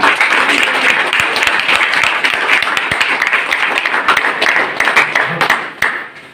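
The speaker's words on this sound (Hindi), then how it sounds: "जोरदार तालियां।" Loud, dense audience applause at a team leadership gathering, steady clapping filling the whole stretch before tapering off at the end, with no talk over it.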